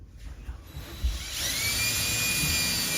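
Power drill boring pilot holes during a rock saw restoration, heard as a high-pitched whine that spins up after a second of low thumps and handling noise, then holds steady and loud to the end.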